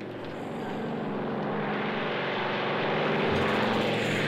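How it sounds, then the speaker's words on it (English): A bomber aircraft takes off, its engine roar a dense, steady rumble that swells gradually louder over a few seconds, with no voices. "Tell that bomber to take off."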